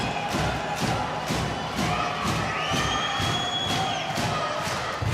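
Handball arena crowd at an Ikast Håndbold versus Thüringer HC match cheering and applauding a departing goalkeeper, a dense, loud, steady roar with rhythmic clapping thumps and high shouts throughout.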